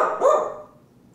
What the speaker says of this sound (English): Yeah, it's a dog.